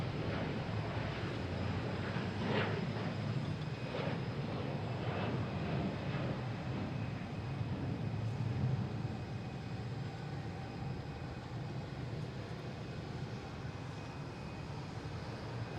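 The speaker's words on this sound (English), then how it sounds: "We got a whole bunch of planes out here. Getting ready to take off, land, all over the place." Jet airliners, including a Delta E175, taxi and take off at Boston Logan International Airport, a steady distant engine roar and rumble that swells and fades gradually throughout, with no talk.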